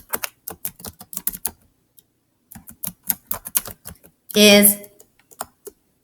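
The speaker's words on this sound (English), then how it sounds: "I'm typing and looking at the same time." Computer keyboard typing in quick bursts of close, crisp key taps, with a dense clatter of rapid keystrokes near the end, interleaved with a person speaking throughout.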